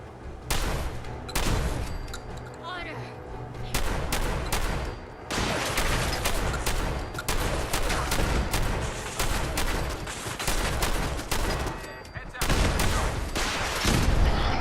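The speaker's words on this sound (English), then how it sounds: "So I may or may not have a ridiculously overpowered gun." Rapid, sustained bursts of video-game gunfire from an overpowered weapon, loud and dense with near-continuous shots and heavy booms.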